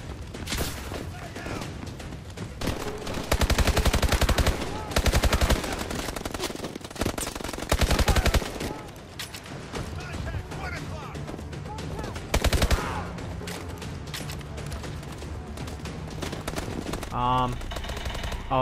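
Rapid automatic gunfire and bursts of shots in the video game Call of Duty: Advanced Warfare, loud and repeated across the stretch over a busy game soundtrack, with someone talking at times.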